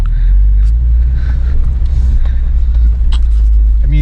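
A rally car drives on rough ground, its engine a loud, steady low drone close by, with bumps and rattles over the top and a few brief voices in the cabin.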